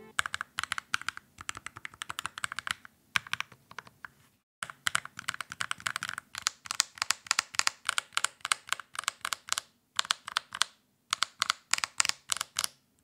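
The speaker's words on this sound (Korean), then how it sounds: "버튼 소음 이렇습니다" Moimate Rushbox hitbox arcade controller buttons clicking in rapid bursts, dense clattering taps with short pauses between runs, close and fairly loud, no voices.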